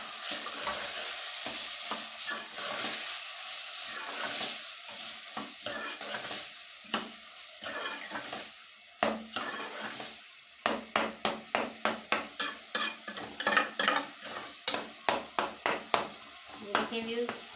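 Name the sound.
keema and masala frying and being stirred in a pan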